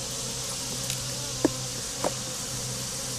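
Honeybees drone softly and continuously around a top bar hive at dusk, a faint steady buzz with a couple of brief louder taps or knocks.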